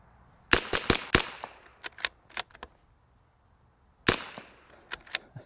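Sharp rimfire rifle shots from cheap ammunition at an outdoor range, fired from an RPR, CZ 457 or B14R: a quick string of cracks, a pause, then another burst of several shots, close and loud with short ringing tails.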